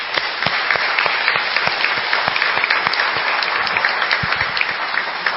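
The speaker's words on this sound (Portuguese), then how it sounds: "Uma calorosa salva de palmas" A church congregation claps warmly, dense overlapping handclaps forming a steady, lively round of applause with no talk over it.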